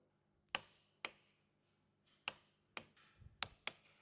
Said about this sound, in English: So when the torque is reached, you'll notice it won't go any longer and it will click.